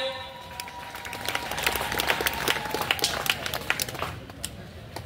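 Crowd applause at a community mahasabha gathering, steady massed clapping swelling for several seconds before tapering, with a faint voice and a sustained tone underneath.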